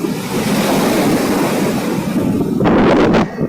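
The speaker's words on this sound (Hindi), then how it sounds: "अभी हवा बहुत ज़्यादा है, शोर भी बहुत ज़्यादा है लहरों का" Strong sea wind buffets the microphone at a beach while loud ocean waves crash in a continuous, close roar.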